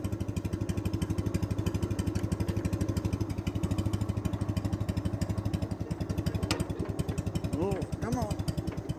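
A Minneapolis Moline BF tractor engine with a new carburetor idles close by in a steady, rapid, loping chug that carries on throughout, with a voice heard briefly over it near the end.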